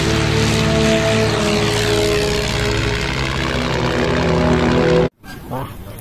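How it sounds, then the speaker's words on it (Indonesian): A toy vintage fighter plane makes a loud, continuous buzzing propeller-like drone with a rough engine tone, which cuts off abruptly near the end before a quieter tail. "Wah, ada pesawat tempur."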